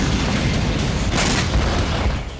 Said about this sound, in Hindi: फाइटर जेट से ये मिसाइल दागी जा रही है।